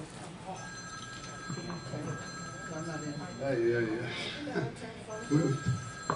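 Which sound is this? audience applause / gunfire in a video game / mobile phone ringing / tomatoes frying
mobile phone ringing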